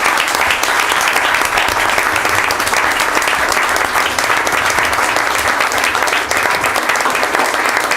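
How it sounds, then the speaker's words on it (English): Steady, loud applause from an audience at a city council meeting in Hamilton, honoring Jack Kirsch, sustained without a break for the whole stretch and carrying no speech. "how about a round of applause again for Jack Kirsch?"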